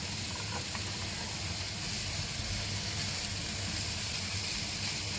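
Mushrooms and cabbage frying in a pan with a little olive oil give a steady, close sizzle and hiss that runs unbroken, with no voices over it.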